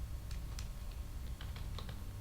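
Keyboard typing while entering text into a Microsoft Excel spreadsheet, a run of light, irregular key taps close to the microphone over a low background hum, with no voices.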